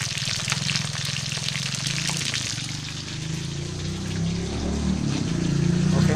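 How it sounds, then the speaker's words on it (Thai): Pork intestines and stomach deep-fry in hot oil with a continuous, close crackling sizzle and bubbling hiss that grows slightly louder toward the end, with no voices. "นี่ีครับมันกำลังทอดเลย"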